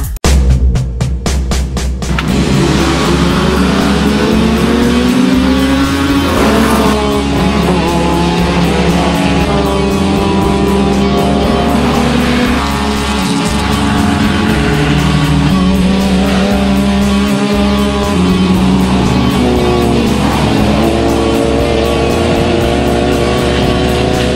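1500cc class race cars roar around a circuit, a loud sustained engine howl that rises and falls through gear changes, with a sharp burst near the start.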